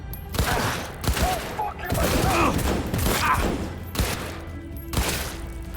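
Bursts of gunfire in Cyberpunk 2077, a firefight with several loud sharp shots and a burst between them, over game ambience and voices.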